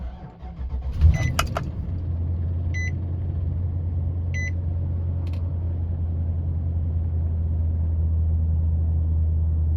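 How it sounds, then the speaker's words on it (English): A Nissan car engine cranks and catches, then settles into a steady low idle that holds to the end, with a few short chime beeps early on. "now we can go ahead and start the vehicle up"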